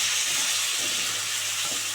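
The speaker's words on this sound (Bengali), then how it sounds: "এই যে ধোয়া পেঁপেগুলো দিয়ে দিচ্ছি ওর মধ্যে" Washed papaya pieces drop into hot tempered oil in a pan, setting off a brief, loud, steamy hiss and sizzle.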